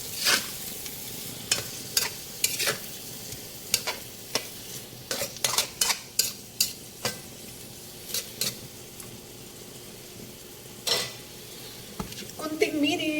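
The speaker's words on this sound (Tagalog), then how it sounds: "Okay, sautein natin saglit." Vegetables with leftover meat sauté in a pan, a soft sizzle underneath repeated scraping and clinking strokes of a utensil against the pan, irregular and close, with a brief rattle near the end.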